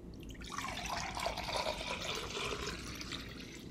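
Water pours in a steady, continuous splashing stream for a few seconds, close and moderately loud, with no other sounds.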